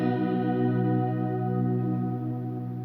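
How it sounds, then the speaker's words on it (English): A sustained, chord-like sample rings out in a heavy wash of reverb added in music production software, slowly fading as it lingers. "I want the sample just on a separate track right now. Add a lot of reverb on this."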